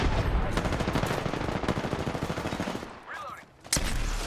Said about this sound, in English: Who's this dude shooting at?